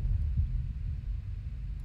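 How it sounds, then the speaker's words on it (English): A low, muffled heartbeat thumps steadily beneath a dark ambient hum in the horror game Deppart Prototype, heavy and close with no voices. "Is that my heartbeat?"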